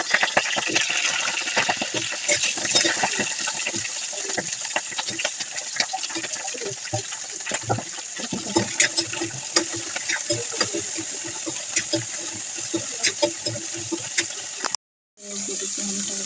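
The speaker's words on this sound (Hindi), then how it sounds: "तो अभी तेल गर्म हो चुका है, उसमें हम डालेंगे गोभी।" Cauliflower dropped into hot oil in a home kitchen, giving a steady broadband sizzle and crackle with scattered pops throughout, a brief dropout near the end, and a voice speaking at times over the frying.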